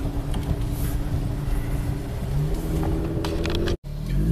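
A Jeep Wrangler with wide bald tires in four-wheel drive, grinding up a slushy trail: a close, loud, continuous engine drone with a brief dropout near the end and no talk.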